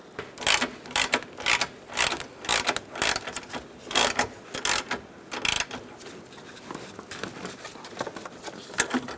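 A ratchet clicks in quick bursts to tighten the battery hold-down nut on a 2002-2006 Honda CR-V. The rhythmic metallic ratcheting sits close and clear, with short pauses between strokes.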